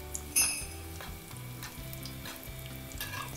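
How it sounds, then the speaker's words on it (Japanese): Browned butter drizzled over carrots in a pan alongside a steak, a steady close sizzle and frying crackle with a light clink near the start. "人参にちょっとこのバターを回しかけて"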